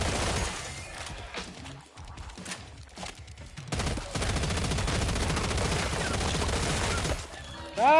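Sustained automatic gunfire in Killing Floor 3, a dense rattling stream of rapid shots with short breaks that then runs continuously and loud for several seconds.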